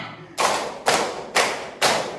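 A group of children claps four times in tight unison during a counting clap game, four sharp, loud, evenly spaced claps with no talking between them.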